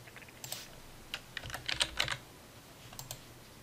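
Typing on a computer keyboard to enter an alphanumeric product number in retail software, quiet scattered keystrokes in short bursts with a denser flurry in the middle, close and alone.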